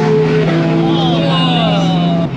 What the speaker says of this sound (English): Fast GT3 RS behind us.